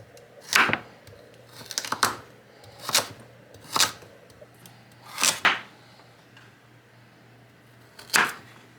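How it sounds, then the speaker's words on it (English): A knife slices peeled carrots into one-inch pieces on a cutting board, six sharp, crisp chops spaced unevenly over several seconds, close and clear with nothing else heard. "I'm going to peel the carrot and then I'm just going to slice them up into like 1-inch pieces"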